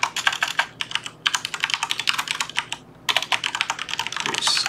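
Rapid typing on a computer keyboard, a dense, close series of crisp clicking keystrokes in uneven bursts with one brief pause partway through.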